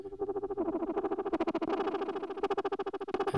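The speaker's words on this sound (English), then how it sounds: "this low frequency oscillator, it's not tempo synced, and it's linked to the filter frequency" A buzzy synthesizer tone in Reason's Thor synth wobbles rapidly as a non-tempo-synced sine LFO sweeps its low-pass filter up and down in a steady, fast pulsing rhythm.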